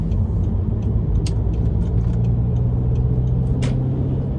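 Audi A3 8P from 2008 with a 1.9 litre engine driving through town, a loud continuous low engine rumble with road noise and scattered short clicks and rattles, no talking.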